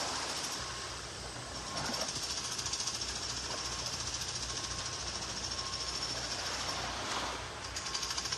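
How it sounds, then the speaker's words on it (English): Jackhammer at a construction site near a beach hotel in North Naples, Florida, hammering in a steady, continuous rattle at moderate distance with broadband outdoor wash. "All that construction noise."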